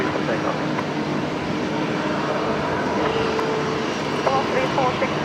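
A plane roars steadily on a night takeoff from Brisbane Airport, a loud continuous engine rumble with brief radio-like voice traces over it.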